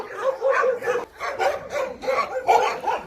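Yakut laika hunting dogs barking at a kennel, several dogs yapping in continuous overlapping bursts close by, with no pause in the noise.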